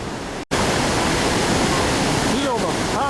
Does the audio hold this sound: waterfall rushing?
yes